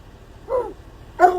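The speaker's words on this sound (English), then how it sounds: "Every time she barks, he barks." Two dogs bark one after the other, a short yelp followed a moment later by a louder, fuller bark, close by in a quiet room.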